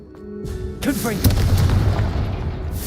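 A Confringo fire spell blast bursts in Hogwarts Legacy, a booming impact with a crackling rumble that lingers, while a voice speaks over the start.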